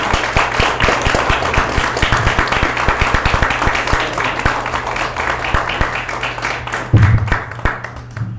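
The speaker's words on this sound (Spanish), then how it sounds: "vamos a recibirlo con un fuerte aplauso al pastor José Benítez" Church congregation applauding a pastor as he is welcomed to the pulpit, sustained loud clapping from many hands with a low hum underneath and a brief voice near the end.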